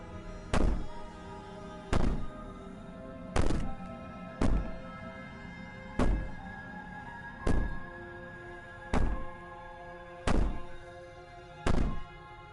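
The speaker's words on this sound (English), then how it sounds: "Maybe the banging and wailing will stop if you just don't pay attention to it." Heavy, booming bangs in the video game Slay the Princess, nine evenly spaced thuds roughly every one and a half seconds, each loud and resonant with a short ringing tail, alone without talk.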